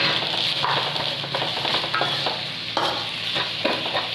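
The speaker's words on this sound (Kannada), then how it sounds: "ಈರುಳ್ಳಿ ಈಗ ಫ್ರೈ ಮಾಡುವ ಈಗ ಟೊಮೆಟೋನ ಹಾಕ್ತಾ ಇದ್ದೇನೆ" Onions frying in a pan with tomatoes added, for a Mangalore-style chicken pepper dish, a dense constant sizzle with irregular spatula scrapes and stirs, close by, no one speaking.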